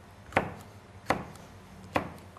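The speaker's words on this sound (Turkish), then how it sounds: "iri kuşbaşı şeklinde de doğrayabiliriz" A knife chops through red pepper on a board in three sharp, evenly spaced strikes about 0.75 seconds apart, each a crisp close thud, with nothing else heard between them.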